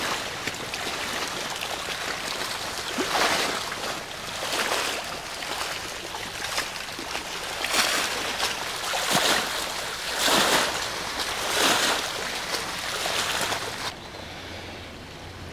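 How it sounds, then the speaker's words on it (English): Water laps against the lakeshore at Rutland Water, a continuous soft wash that rises in gentle swells every second or two, with no voices. "The sound of water lapping on the shore."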